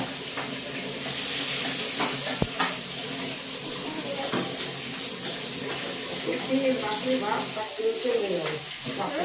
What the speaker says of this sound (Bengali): মাছের তেলে মাছ ভাজা হচ্ছে।